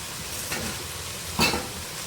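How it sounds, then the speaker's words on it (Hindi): Boiled rice tipped into a hot pan of oil for restaurant-style veg and chicken fried rice, giving a soft steady sizzle with a brief louder hiss and rustle as the grains land; no talking. "3 पाव चावल जो मैंने बॉईल किए थे वो मैं सारे अब इसमें शामिल करूँगी"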